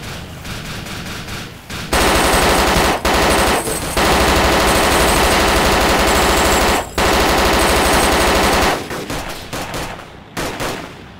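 Automatic gunfire from an armoured SUV's gunner in the video game DayZ: long, loud, sustained bursts of rapid shots with brief gaps between volleys, close and dominating.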